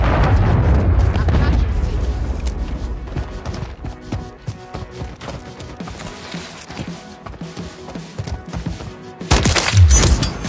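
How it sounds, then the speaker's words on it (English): Cruise missile explosion in the Call of Duty MW3 video game, a heavy booming rumble that fades into scattered gunfire and clatter, then a sharp loud blast near the end. "Friendly cruise missile approaching target."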